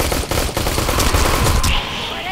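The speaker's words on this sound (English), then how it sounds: "how do you like my rapid clicker finger if you listen? That's as fast as I can shoot." Dense, loud rapid gunfire from a weapon in Aliens: Colonial Marines multiplayer, a sustained burst of overlapping shots that cuts off near the end.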